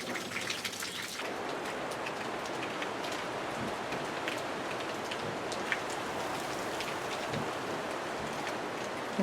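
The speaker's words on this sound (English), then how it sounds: "The first bit of storm has come through and there's more on the way." Steady rain falls from the first passing wave of a storm in an evening garden with live oaks, a dense even hiss of drops on surfaces filling the whole stretch, with no voices.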